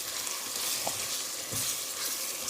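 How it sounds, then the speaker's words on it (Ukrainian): Food sizzles steadily in a hot pan while a utensil scrapes and stirs through it, with a couple of brief clinks partway through. "Зараз це все перемішую."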